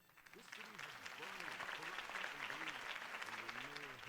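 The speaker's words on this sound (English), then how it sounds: "If only Mr. Wayne, my campaign's largest backer, could have heard that applause" Crowd applause and clapping in the Batman: The Telltale Series video game, a steady dense roar of many hands that swells after a campaign speech, with voices faintly mixed in beneath.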